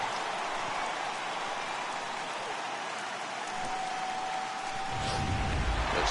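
Steady rain hisses over a baseball game in MLB The Show 18, a dense even wash of drops with a faint thin tone partway through and a low rumble swelling near the end.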